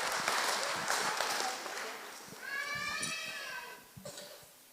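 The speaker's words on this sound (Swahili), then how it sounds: "Tuwapige makofi wanapoketi" A congregation at a Kikuyu church service claps as children return to their seats, moderate applause mixed with murmuring voices and a brief high child-like call partway through, tapering near the end.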